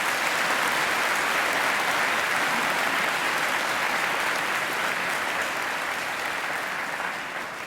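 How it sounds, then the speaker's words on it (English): A graduation ceremony audience gives a singer named Angela a full round of applause, a dense, even roar of many hands clapping that holds steady and only slightly eases toward the end. "I think she deserves another great round of applause."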